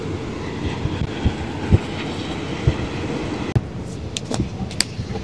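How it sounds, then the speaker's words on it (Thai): A passenger train running through green rice fields on its approach to Chachoengsao Junction in Thailand gives a steady, close rumble with faint rhythmic wheel clatter and a few sharp clunks, heard alone without talk. "ตอนนี้รถไฟก็วิ่งมาเรื่อยๆนะครับใกล้จะถึง ชุมทางฉะเชิงเทรานะครับ"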